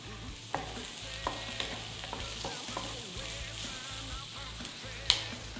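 Onion and peppers frying in a pan while being stirred, a steady soft sizzle with a few sharp clicks and scrapes of the utensil, close and fairly quiet.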